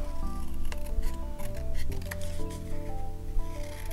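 Scissors cut around an embossed handmade card image, giving a few soft, crisp snips under steady background music with no talking.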